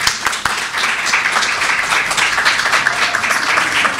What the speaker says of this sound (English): I ask that we all please give a warm round of applause to the JSEAS team from University of Southampton